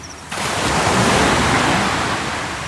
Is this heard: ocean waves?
yes